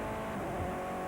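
A Formula 3 race car at Croft circuit in the 2000 British Formula 3 championship screams at high revs, a loud, continuous engine tone from close by during a short burst of acceleration.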